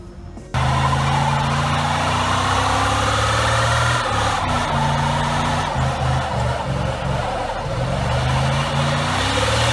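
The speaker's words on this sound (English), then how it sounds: "Now that's someone who really knows how to park their truck." A truck engine idles steadily nearby with a low droning rumble, its pitch dipping and surging briefly midway as the truck is maneuvered into a parking spot, then settling back to a constant hum.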